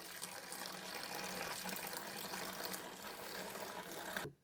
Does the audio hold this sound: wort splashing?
yes